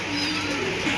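Grizzle Lahori pigeons coo softly at a pigeon farm in Mirpur, Dhaka, a low throaty murmur rolling under a steady background hiss.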